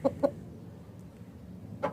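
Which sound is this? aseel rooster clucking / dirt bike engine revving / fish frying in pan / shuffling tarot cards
aseel rooster clucking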